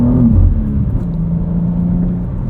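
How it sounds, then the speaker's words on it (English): Exhaust note of a 2023 BMW M2 with the S58 engine and six-speed manual, heard from inside during a night drive: a loud, deep, smooth drone that sweeps in pitch as the engine pulls, with no talking. "BMW really did an amazing job with the exhaust here."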